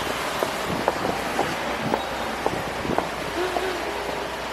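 Outdoor rain falls as a soft, continuous patter with gusts of wind against the microphone, while faint voices and brief vocal sounds come through at intervals.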